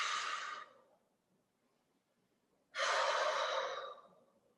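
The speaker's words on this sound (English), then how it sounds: "Nice and gentle breathing" Two slow, gentle breaths during kettlebell mobility training, a soft exhale, a pause of quiet, then another longer breath, close and unvoiced.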